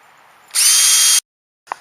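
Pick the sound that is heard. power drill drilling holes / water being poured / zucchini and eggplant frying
power drill drilling holes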